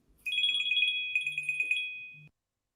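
A telephone rings with a bright electronic warble in two bursts, a short gap between them, loud and close with no talk over it.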